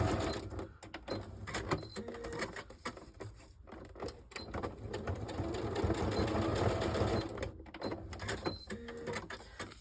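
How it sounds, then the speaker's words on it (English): A sewing machine stitches across little paper ruffles on a sequin shaker card, its needle running in a fast steady whir with brief pauses and restarts, close and fairly loud with no talking. "So I'm just going to sew across the little ruffles"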